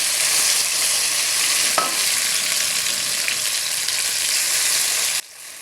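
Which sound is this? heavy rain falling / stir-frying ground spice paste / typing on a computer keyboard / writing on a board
stir-frying ground spice paste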